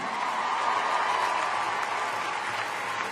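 A large crowd applauds continuously and loudly for a singer at a live show with an orchestra, a dense, even wash of clapping with no pauses.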